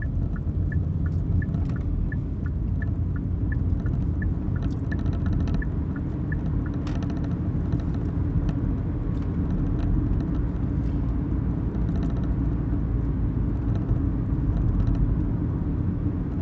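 A Hyundai Ioniq hybrid coasts on its petrol engine in eco mode while engine braking, giving a low, steady road and drivetrain hum inside the cabin, with no one speaking.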